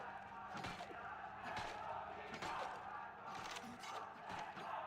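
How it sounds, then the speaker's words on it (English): Home crowd at a Valorant esports watch party cheering and chanting for team True Rippers, a loud, sustained roar with rhythmic thumping beats and surges throughout. "I just listened to that crowd"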